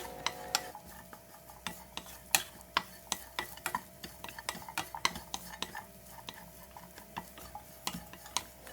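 Banana pieces, cashews, almonds, raisins and coconut sauté in a pan with a soft sizzle, under a dense run of quick, sharp spoon clicks and scrapes against the pan; no voices.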